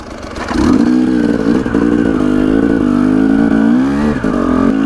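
A motorcycle engine fires up close by, revs with a rough, clattering mid-pitched roar, and keeps running loudly as the bike pulls away.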